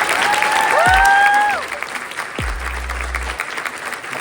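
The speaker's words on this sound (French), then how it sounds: "Je vous demande d'applaudir très fort Justine Lossa." Audience at a comedy show in Avignon applauding a performer, dense steady clapping close by that thins out after a couple of seconds, with a whistle-like tone and a few low thumps over it.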